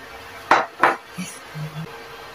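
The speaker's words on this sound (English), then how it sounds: "Stir gently." A spoon scrapes and clinks against a pot while ogbono and okro soup with smoked fish is stirred, two sharp close knocks followed by softer, shorter scrapes, with no talking.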